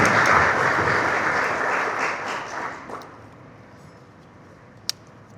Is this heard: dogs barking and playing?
no